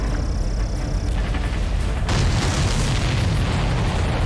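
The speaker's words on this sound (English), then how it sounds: "Did you see that explosion?" A supply ship explodes in the video game Ace Combat 7: a loud, continuous, deep roaring rumble that swells abruptly about halfway through and keeps booming steadily to the end.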